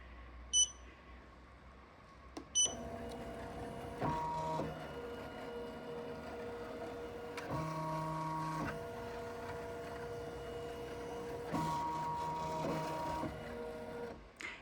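A Ricoma EM1010 embroidery machine tracing its design area with a magnetic hoop, producing quiet electronic beeps followed by stepped motor whines as the frame moves in short separate runs in a quiet room.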